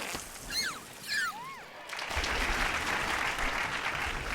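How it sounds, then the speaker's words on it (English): Small burst of game applause from Zoo Tycoon 2 during a marine show trick, a steady wash of clapping that swells in after a few whistling, chirpy game effects and continues evenly to the end. "And I get a small applause there"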